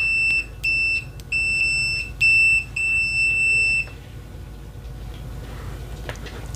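A ToolTop ET828PRO multimeter in continuity mode sounds a series of about five loud, piercing electronic beeps, some short and some held longer, close up, followed by a quiet room.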